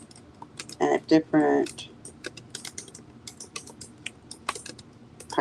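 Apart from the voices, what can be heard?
typing on a computer keyboard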